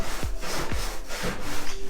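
Plastic sanding block drawn across body filler on a hail-damaged Subaru car roof: rhythmic, close, abrasive rasping strokes, roughly three to four back-and-forth passes with a scraping, sawing texture, without any talk.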